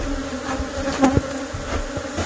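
Honey bees hum around an open hive being worked in a shed, a steady close buzz with a couple of louder passes near the middle.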